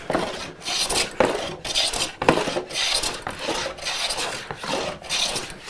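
A hand plane takes fine shavings off a piece of lumber during dimensioning, giving a series of rasping strokes, about eight in a steady back-and-forth rhythm. The strokes are close and moderately loud, with no voices.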